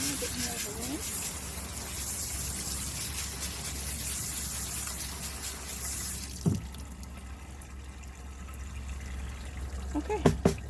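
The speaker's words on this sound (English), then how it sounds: "Now a bit more of a rinse." Running water rinses tumbled rocks, a steady rushing flow that stops partway through, followed by a few faint clinks in the quieter stretch.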